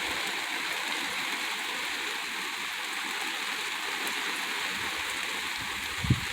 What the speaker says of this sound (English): Ooh, side rain.